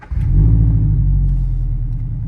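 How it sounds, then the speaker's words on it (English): A car engine cold-starts with a short crank, then settles into a loud, steady low rumble at idle, close by, with no talking. "We're in the car, so let's get a bit of a cold start here."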